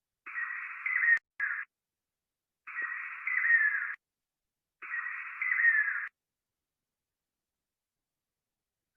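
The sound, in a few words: nightjar common trisyllabic call recording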